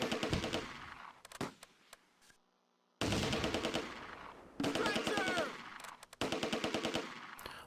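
A medium machine gun fires in the WWII video game Close Combat, rapid bursts of loud, close automatic fire broken by short gaps, with a quiet moment near the middle.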